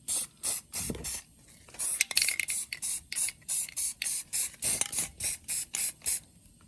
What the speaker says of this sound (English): spray the tips with this, making sure all the washers are coated.